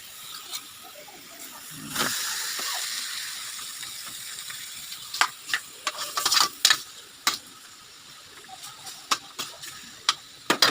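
About a kilo of meat sizzles in an overheated pan as its fat renders out, a steady bright hiss broken by frequent sharp clicks and scrapes from stirring.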